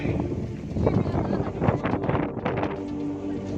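Steady, strong wind roars across an open field where kites fly at a traditional Minangkabau kite event. The noise is a continuous broadband rush with gusty swells, buffeting the microphone.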